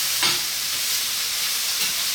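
Onion cooking in a pan, a steady broadband sizzle running through the whole short stretch with a couple of soft stirring bumps, close and moderately loud, no voices.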